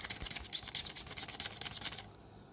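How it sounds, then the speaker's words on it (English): A scraper rasps away sun-faded, oxidized plastic on a Sea-Doo bumper, producing a run of quick, rhythmic strokes up close for about two seconds before it stops. "And you're actually scraping away that old plastic."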